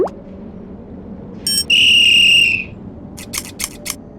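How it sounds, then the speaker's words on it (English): In the Thomas & Friends: Thomas Saves the Day PC game, a shrill police whistle sounds for about a second, followed by several quick metallic snips of scissors. "It's only a police whistle and a pair of scissors."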